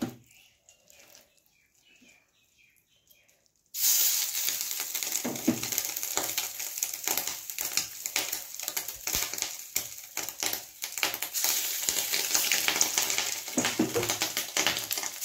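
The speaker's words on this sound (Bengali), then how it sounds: "এবারে আমি মাছের ডিমের বড়াটা ভেজে নেব" Fish roe fritters frying in oil in a pan, a dense crackling sizzle with sharp pops that starts abruptly after a quieter opening and continues steadily, close up.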